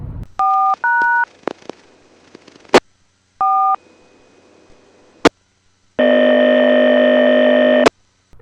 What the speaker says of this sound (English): Later we get dispatcher tones.